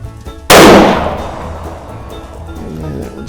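Single loud, close rifle shot from a Savage model 840 in .222 Remington, a sharp crack followed by a long decaying outdoor echo and rumble.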